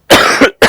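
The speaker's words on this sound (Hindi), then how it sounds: "सॉरी फॉर दिस, बट आज सच में खांसी ज्यादा ही हो गई।" A single harsh cough followed by a shorter second cough, then a quick third burst, close and loud with no talking.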